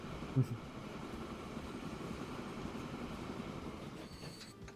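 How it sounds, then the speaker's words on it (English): A train in the video game Transport Fever 2 rolls along its rails with a steady low rumble and soft track noise, one brief thump near the start and faint squeal at the end. "We can just keep riding this train though."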